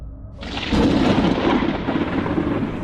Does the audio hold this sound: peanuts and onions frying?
no